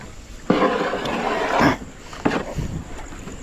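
A boat moves on a lake at night, its loud rushing, roaring swells rising and falling in two surges close by, with no one talking.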